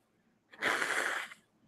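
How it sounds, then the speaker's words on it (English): A single sharp, breathy sneeze bursts out and cuts off after under a second, close up, with near silence around it. "I almost blew snot everywhere when I sneezed."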